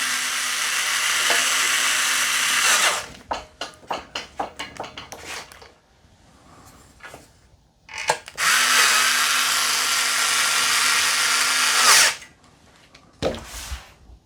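Power drill driving screws into the hooks of a metal coat rack, two long loud whirring runs, each followed by a string of clicks and rattles, recorded close with no talking.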